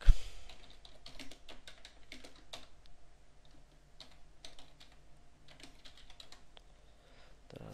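Close computer keyboard typing in bursts of quick clicks with short pauses, a sharp knock at the start, and no voices.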